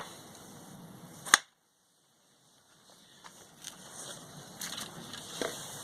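A single sharp wooden knock as a block of wood taps the engine crankcase apart from the transmission on a Penguin engine, followed by near silence and a faint low background hum.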